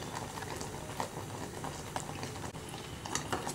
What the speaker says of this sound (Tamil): அது வரைக்கும் நம்ம வந்து காய்ச்சணும்.